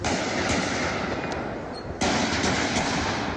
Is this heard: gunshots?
yes